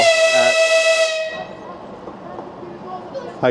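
A loud, sustained horn blast from an Ivolga 4.0 train departing Peredelkino station, the tone cutting off after about a second and a half, followed by low rumbling platform noise and a brief metallic screech at the end.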